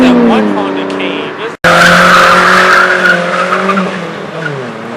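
A car doing a burnout while leaving a street car meet, with tires squealing and skidding loudly up close over a roaring engine, and voices shouting nearby.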